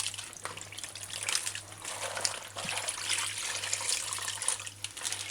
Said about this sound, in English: And wash each leaf properly.